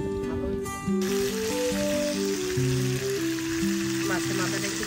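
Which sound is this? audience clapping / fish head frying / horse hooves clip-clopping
fish head frying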